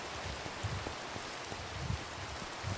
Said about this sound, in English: It goes on the surface for 5 minutes, immediately starts raining.